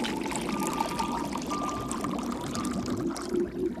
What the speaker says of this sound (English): Take the displaced water, take the water, put it back in the hole we had earlier.